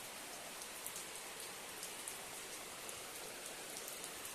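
Steady rain falls outdoors around a house, a soft even hiss of drops with faint pattering, alone and without voices.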